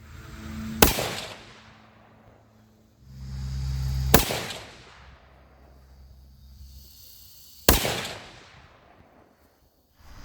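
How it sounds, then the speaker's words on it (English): A 6.5 PRC rifle firing 120 grain Speer Hot-Cor bullets, three loud sharp shots spaced a few seconds apart outdoors, each cracking and trailing off in a long echo, with a low rumble between. "Next I'm gonna shoot some groups with 120 grain Speer Hot-Cors."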